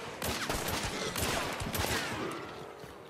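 Video game gunfire crackles in a dense, rapid fusillade of overlapping shots and bursts, loud and close, tapering slightly toward the end.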